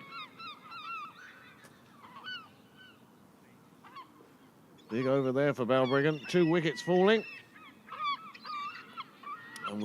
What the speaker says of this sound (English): we've reached the time of the evening where the Seagulls, well, they're establishing their territory